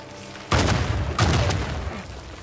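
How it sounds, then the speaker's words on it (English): A grenade explodes in the video game Uncharted 4, two loud booming blasts in quick succession with a rumbling tail, no talking. "The grenade."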